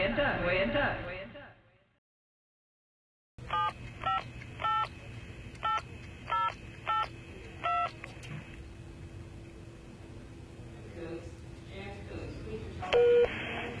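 Touch-tone telephone dialing: a short run of evenly spaced DTMF key beeps, close and clear, after a brief burst of sound and a silent gap, with a steady line hum and a final longer tone.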